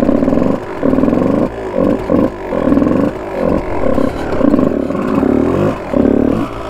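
A Kawasaki KX 125 two-stroke motard bike revs hard while riding circles, its loud buzzing engine note rising and dropping in repeated surges with brief throttle lifts between, close and alone.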